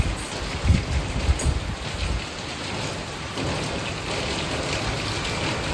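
Steady rain falls outdoors during a monsoon downpour, a continuous hiss of drops on surfaces with a few heavier patters early on, and no voices.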